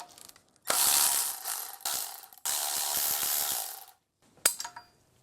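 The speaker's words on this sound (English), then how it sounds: "Now we're going to remove the nuts on the inlet side." A ratchet spins off nuts on the inlet side of a BMW M54B30 inline-six engine during a rebuild, giving several loud bursts of rapid clicking separated by short pauses. A brief final burst follows after a gap.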